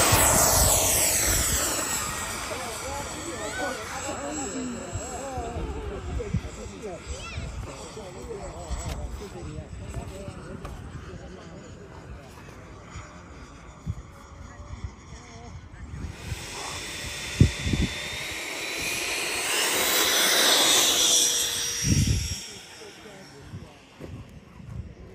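XFLY 80mm EDF T7A RC jet plane on a 6S battery taking off and flying, its ducted-fan whine and rushing hiss rising and falling as it passes, louder toward the end, with people talking outdoors throughout.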